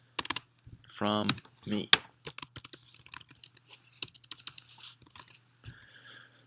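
Computer keyboard typing in short irregular bursts of clicks, fairly close, with a person speaking briefly over the top near the start.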